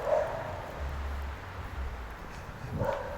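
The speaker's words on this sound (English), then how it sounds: "the dogs don't like me. Or maybe they do. They are barking at something else." Dogs bark and yip somewhere in a quiet, near-deserted Spanish seaside resort, a few short calls at the start and end of the stretch with faint low rumble between and no talk.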